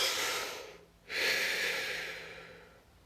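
One deep breath, a long airy inhale and exhale with a short pause between them, close and soft, with no voices.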